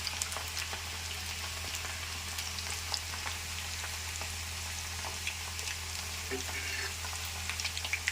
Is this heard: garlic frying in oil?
yes